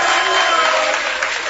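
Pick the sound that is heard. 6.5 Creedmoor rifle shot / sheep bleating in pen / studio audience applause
studio audience applause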